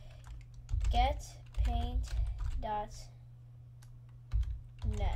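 Keys clack on a computer keyboard while someone talks over them, the soft typing taps running under and between his speech.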